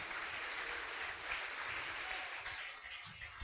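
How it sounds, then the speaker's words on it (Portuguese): A church congregation applauds together in a steady, continuous wash of clapping that holds at an even level throughout, with no one speaking over it. "Você pode aplaudir o Senhor por essa bênção na sua vida?"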